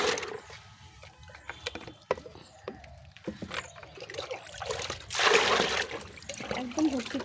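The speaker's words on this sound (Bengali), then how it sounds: "এই বালতিটা ভর্তি করে আমি জল দিয়ে দেবো।" Water trickles and pours into a bucket near a garden, soft and intermittent with clanks and handling noises, a louder gush of running water partway through.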